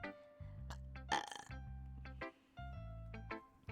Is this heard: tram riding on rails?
no